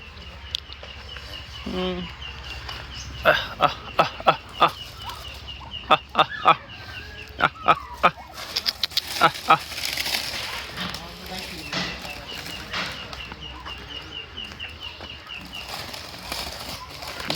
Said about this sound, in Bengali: এগুলি সাদা কালারের চীনা হাঁস